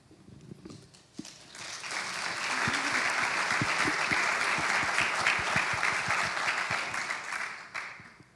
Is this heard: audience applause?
yes